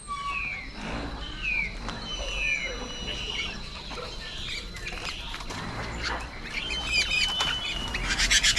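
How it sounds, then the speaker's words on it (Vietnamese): Several birds chirp, whistle and squawk after rain in a northwestern Vietnamese forest, with overlapping calls near and far over dripping patter and someone talking at times. "Trời vừa mưa xong nắng lên chim hót coi như là"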